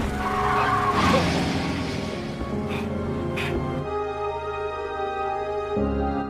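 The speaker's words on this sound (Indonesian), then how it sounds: "tanpa ragu dia pun menabrakkan mobilnya" A car skids with screeching tires in an action film, a loud sustained squeal with engine roar and brief sharp hits, then a sudden cutoff into a quieter hum before ending abruptly.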